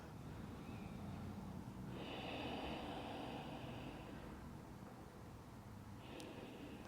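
Slow, deep breathing in a seated butterfly yoga pose, a long airy breath over steady background noise, fairly faint and unaccompanied by talk.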